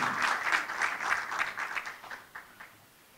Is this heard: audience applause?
yes